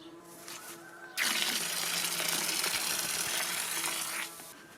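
Water gushes from a Parkside PRPA 20-Li B2 cordless 20V battery pump, starting abruptly and flowing in a steady, fairly loud splashing stream for about three seconds before cutting off.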